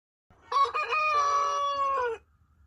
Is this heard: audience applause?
no